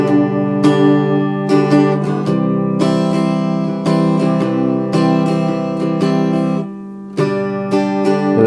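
Steady acoustic guitar strumming of full chords, loud and close, with brief breaks in the rhythm where the sound drops out during chord changes.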